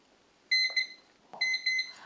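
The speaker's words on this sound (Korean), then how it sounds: "알람도 같이 울리네요" A countdown time-management timer's alarm set to maximum volume, sounding two bursts of loud, bright electronic beeping, each a quick pair of tones, close by with no talking.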